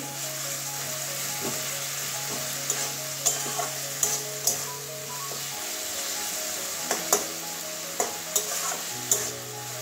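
Pointed gourd and potato chechki sautéing in a pan, a continuous close sizzle broken by periodic scraping and tapping of a spatula stirring the vegetables, with no one talking.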